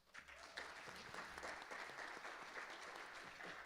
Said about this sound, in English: I'd say that's worth applause.